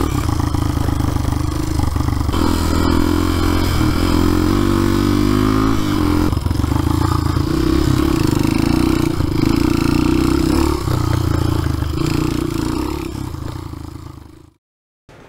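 A cheap used dirt bike revs and roars steadily along off-road trails, engine loud and close throughout with rattling clatter, before cutting out abruptly at the end.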